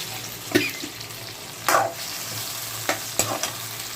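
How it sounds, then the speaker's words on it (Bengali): A spatula stirs spice paste into fried potatoes and pointed gourd in a wok, with several scraping strokes over a constant low sizzle, close up and without speech. "এরপর বন্ধুরা মশলাটাকে কড়াইতে দিয়ে ভালো করে একটু নাড়িয়ে দেব।"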